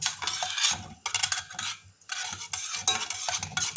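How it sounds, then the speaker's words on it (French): Flaxseed being stirred in a saucepan, repeated scraping and swishing strokes in bursts with short pauses, close and fairly loud. "on va commencer à touiller, le temps que ça se fasse."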